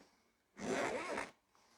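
A single zipper on a laser enclosure pulled closed in one smooth, steady stroke lasting under a second, close by, with quiet surroundings before and after.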